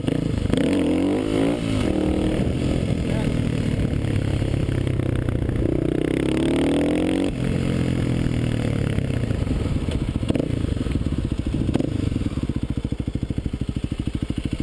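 A Kawasaki KLX250 dirt bike runs close by throughout, its engine revving up and dropping repeatedly as it builds speed in second gear for a wheelie, rough and loud with rising pitch sweeps.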